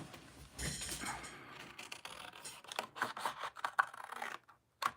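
Scissors snip through paper for a travel journal in a series of close, soft crisp cuts and rustles, with pauses and small scraping handling sounds.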